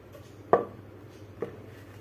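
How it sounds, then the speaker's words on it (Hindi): Knife cutting arvi (taro) leaves on a board in a home kitchen: two distinct sharp chops about a second apart, the first louder, over a quiet background. "ऐसे करके मैं सारे पत्ते को काट करके रख लेती हूँ।"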